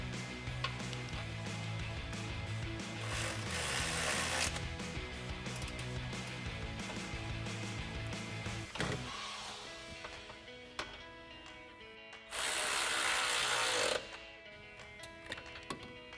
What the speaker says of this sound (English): now we'll tighten these bolts down with our 13mm socket